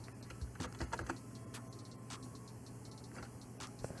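Keys clack on a computer keyboard in quick, light, irregular taps. The typing is faint, sits over a steady electronic hum, and includes a few slightly louder keystrokes.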